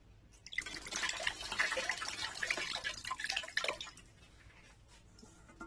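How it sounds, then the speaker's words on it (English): Water drains and drips from soaked rice held over a bowl, a close, trickling, splashy pour lasting a few seconds before tapering into faint drips. "just take the rice away from the bowl, separate it from the water."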